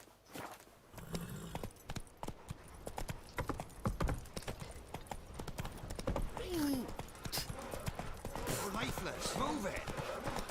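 Geralt's horse Roach in The Witcher 3 clops along with steady, close hoofbeats, joined by brief whinnying and scraping sounds, with other game sounds underneath.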